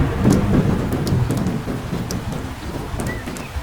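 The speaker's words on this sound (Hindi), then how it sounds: "फिर शुरू होती है तूफानी हवा और बारिश, साथ में कड़कती है खौफनाक बिजलियां।" Stormy wind and heavy rain roar continuously, with low rumbling thunder rolling underneath and scattered sharp crackles throughout.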